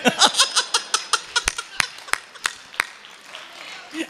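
An audience at a Hindi comedy poetry event claps in bursts, a quick run of sharp claps followed by a handful of slower, separate claps that fade out, with light laughter mixed in.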